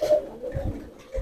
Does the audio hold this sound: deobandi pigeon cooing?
yes